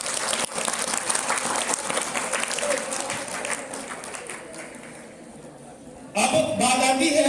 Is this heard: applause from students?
yes